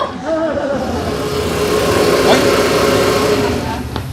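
A car engine runs steadily throughout, a low continuous rumble with faint voices in the background.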